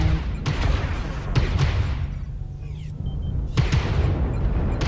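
Heavy artillery in a tabletop-style war video game booms repeatedly, with dense, rumbling blasts rolling one into the next, a short lull, then another loud volley close up.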